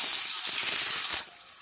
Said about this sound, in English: I'm going to fry that up a little bit.